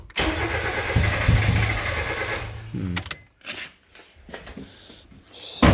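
Mazda 323F engine cranking as it tries to start, a loud rhythmic starter churn for nearly three seconds that cuts off, followed by quieter clicks and shuffling noises and a brief burst at the end.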